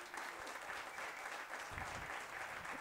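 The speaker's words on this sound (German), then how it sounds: "Wir begrüßen ganz recht herzlich mit einem Applaus" Applause from the audience at a German pool billiards tour final, a continuous, even patter of many hands clapping, moderately loud and steady throughout.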